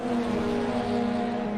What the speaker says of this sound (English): You guys can hear the cars in the background now.